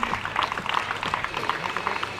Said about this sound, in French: on peut les applaudir encore